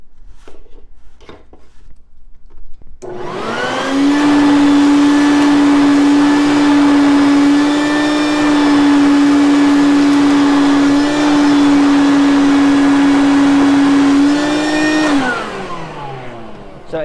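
A Stinger 2.5 gallon wet/dry vacuum starts up and runs loud and steady for about twelve seconds while sucking up garden dirt, with a constant high motor whine, then winds down as it is switched off. No one speaks.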